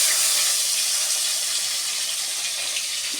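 Potatoes frying in hot oil in a home kitchen, a continuous close, bright hiss of sizzling that holds steady throughout with no voices over it.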